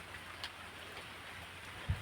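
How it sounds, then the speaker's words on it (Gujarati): Steady rain patters continuously with a soft hiss of drops, plus one brief low thump near the end. "બાકી વરસાદ થઈ ગયો ચાલુ."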